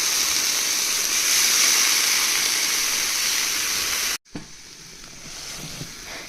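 Washed cabbage dropped into a hot pan of salted, already-frying ingredients for a simple cabbage dish, giving a loud, steady, close sizzle that cuts off abruptly near the end, then returns as a quieter hiss.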